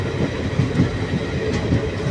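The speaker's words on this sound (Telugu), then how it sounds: "నేను ట్రైన్లో పోతున్నాను." A train rolls along the rails with a steady rumble and a regular clickety-clack of wheels over rail joints, heard close up from on board and uninterrupted for about two seconds.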